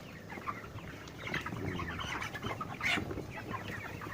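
A dense flock of 28-day-old broiler chickens in a coop, clucking and chattering all at once in a steady, busy murmur with occasional louder calls rising close by.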